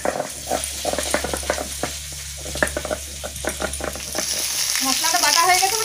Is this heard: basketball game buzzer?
no